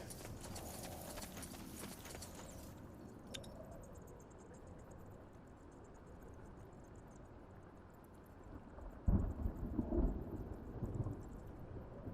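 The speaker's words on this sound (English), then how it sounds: "Great. A storm." Thunderstorm in the video game Spellforce III Reforced: steady rain hiss runs throughout, with a deep rumble of thunder swelling near the end, alongside faint horse hoof clops.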